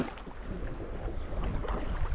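A canoe is paddled hard upriver against the current on a wilderness river, with a steady low rush of water and wind close to the microphone and no distinct individual strokes.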